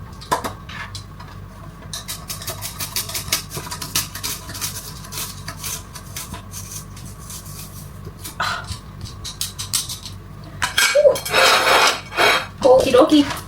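A knife slices an onion for a Thai minced beef salad (larb neua), a steady run of quick, crisp cuts against a board, close by, followed by heavier scraping and clattering.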